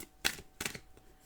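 Tarot cards being shuffled during a reading, giving two quick papery riffling bursts close by, separated by a short pause, with fainter rustling after.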